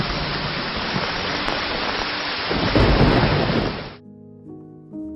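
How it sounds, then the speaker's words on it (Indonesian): Heavy rain pours in a dense, loud roar with a swell of rolling thunder near the end, then cuts off abruptly into a quiet musical tone. "hujan turun dengan begitu derasnya"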